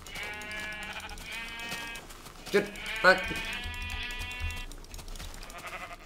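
Minecraft sheep bleating in a video game, a few wavering bleats mixed with game sounds while a player talks over them.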